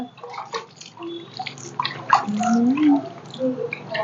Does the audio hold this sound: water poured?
yes